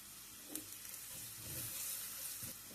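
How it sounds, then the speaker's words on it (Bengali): Spices (chili powder, turmeric, salt) with onions frying in a pan with cauliflower leaves, a faint steady sizzle with a few soft stirring clinks, no talking. "মশলাটা একটু বিরানি যাক।"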